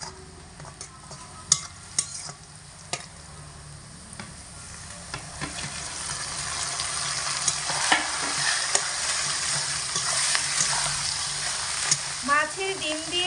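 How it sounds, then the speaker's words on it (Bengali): Fish roe stirred and frying in a pan over medium heat, with a steady sizzle that builds over time and sharp scraping clicks of a spatula against the pan, no talking. "মাছের ডিম দিয়ে কিন্তু এবারে মিডিয়াম আঁচে রেখে অনবরত নাড়াচাড়া করতে হবে"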